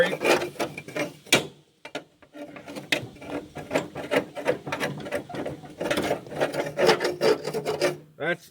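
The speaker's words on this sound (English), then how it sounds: "Just take your old blade, give it a little scrape." The underside of a lawn tractor mower deck being scraped with an old mower blade, a repeated rough rasping in quick strokes with a few louder knocks, close and loud.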